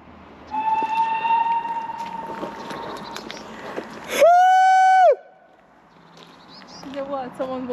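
At the ruins of an abandoned factory, a person's voice imitates a Siren Head train horn. A long wavering tone comes first, then a loud, sustained, horn-like wail for about a second. Quieter talking follows.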